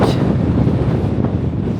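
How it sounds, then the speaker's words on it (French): Strong wind in Badlands National Park buffets the microphone with a constant, loud low roar, gusting slightly throughout with no voices. "Il y a beaucoup de vent."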